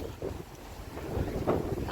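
Gusty sea wind buffeting close by on Obhur beach in Jeddah, rumbling low and uneven with swelling bursts over a couple of seconds.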